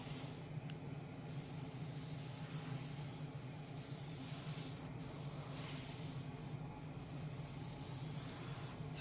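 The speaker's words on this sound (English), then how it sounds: "So just spraying it down as I would do on the bodywork." A spray gun lays 2K diamond clear coat onto carbon model parts, making a steady loud hiss that runs continuously with a few brief breaks in the spray.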